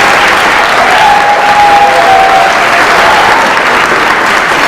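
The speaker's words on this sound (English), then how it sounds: "Give them a round of applause." Dense, sustained applause from a large audience at a charity event, a loud, continuous wash of many hands clapping at once with no pauses, close and filling the room.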